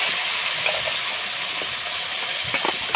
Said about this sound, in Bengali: এই কাঁকড়াগুলো ভেজে নেব